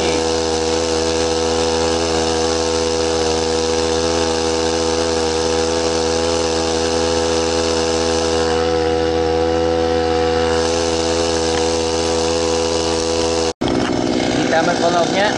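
An engine runs steadily on test, giving a loud, continuous mechanical drone with strong harmonic hum that stays constant for about thirteen seconds before cutting off abruptly into brief rattling noise.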